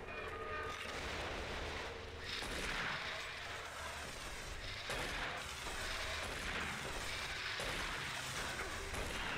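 Shotgun blasts in a video game, several loud booming shots at a fairly steady pace over continuous gameplay noise.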